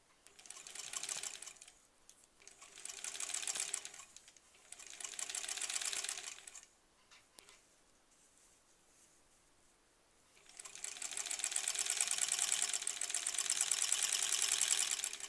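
A sewing machine stitches quilt border pieces for a Granny Squares quilt in bursts of steady rapid whirring, running about two seconds at a time with brief pauses, then a quiet stretch and a longer continuous run, close.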